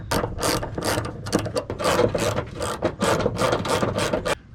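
An 11mm socket wrench ratchets the original hood hardware off a Jeep Wrangler JK, giving rapid bursts of sharp metallic clicks in an even rhythm, loud and close.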